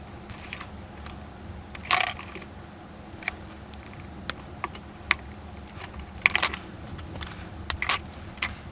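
Scoring and snapping a piece of styrene plastic, scattered sharp clicks and scrapes heard close up, with two louder cracking bursts and several isolated ticks against a quiet background.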